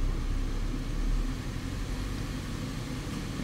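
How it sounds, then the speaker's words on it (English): A Holden Captiva engine, freshly started after clearing variable valve timing fault codes, revs up with a steady low mechanical drone and a slight swell early on, running alone without speech. "and so we'll rev it up,"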